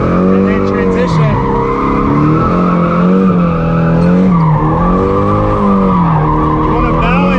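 A drifting car holds a loud, continuous engine wail that rises and falls with throttle flicks, while tires skid and squeal steadily underneath throughout.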